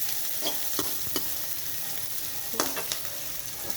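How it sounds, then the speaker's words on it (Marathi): Vegetables stir-fried in a hot pan give a steady close sizzle, with a few sharp spatula scrapes and taps as they are tossed. No one speaks. "आणि आता हे परतून घेतलं."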